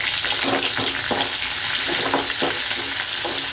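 Onion, curry leaves and garlic fry in hot oil for a spicy brinjal and drumstick kuzhambu, a steady close hiss of sizzling with soft rhythmic stirring scrapes throughout and no voices.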